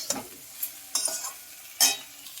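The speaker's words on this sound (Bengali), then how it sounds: "পেঁয়াজ আর ঢ্যাঁড়স একসাথে কি সুন্দর ভাজা হয়ে গেছে।" Onion and okra frying together in a pan, with a few scraping stirs of a spatula over a soft sizzle, three distinct strokes, close and alone.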